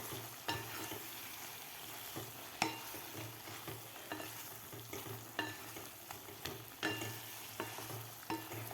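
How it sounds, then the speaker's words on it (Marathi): A spoon stirs stuffed ridge gourd through spiced masala in a hot pan, with steady sizzling frying underneath and irregular scraping knocks of the utensil, close but fairly quiet, with no voices. "आता आपल्याला व्यवस्थित हे मिक्स करून घ्यायचे आहेत खालच्या मसाल्यामध्ये"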